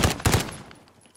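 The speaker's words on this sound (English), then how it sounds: "Oh, everyone's shooting, I don't like it." Gunfire rattles in the shooter game Infected Warfare, several loud, close shots in a fast burst followed by a fading echo tail, with no talk.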